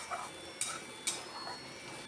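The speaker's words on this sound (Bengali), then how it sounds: "এর মধ্যে যেহেতু বাদাম বাটা, শস্য বাটা সব কিছু দেওয়া আছে, তাই নিচে লেগে যেতে পারে। খুব ভালো করে কষিয়ে নিচ্ছি।" A spoon clinks and scrapes in a pan while raw banana curry with nut paste is stirred and sautéed. Three sharp metallic taps stand out over a quiet, faint sizzle.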